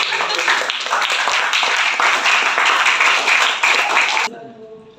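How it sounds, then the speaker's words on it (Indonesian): Classroom students clapping for a classmate, a dense, steady patter of many hands that carries on for about four seconds and then cuts off, leaving faint room sound. "Tepuk tangan untuk si Fairuz."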